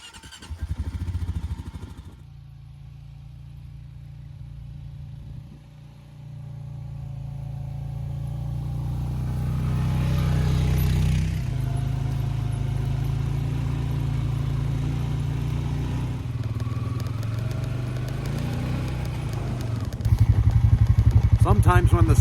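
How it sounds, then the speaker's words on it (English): A four-wheeler ATV fitted with a plow blade clears fresh snow from a cabin driveway in the winter woods, its engine droning steadily and close by, the note rising and holding as it pushes through the snow. "it's time to get out the four-wheeler and plow blade and clear the driveway"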